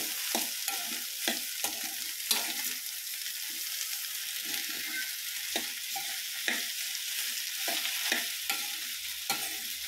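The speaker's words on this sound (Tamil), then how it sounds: "அடுத்து அதை நல்லா கிண்டி விட்டுருங்க." Food sizzles steadily in a pan while a spoon stirs it with repeated scraping clicks and knocks, close up and alone throughout.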